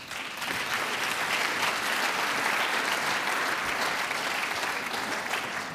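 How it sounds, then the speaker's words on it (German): A steady roar of applause fills a hall during a pharmaceutical industry award ceremony, many hands clapping at an even, sustained level with no talk over it. "Applaus."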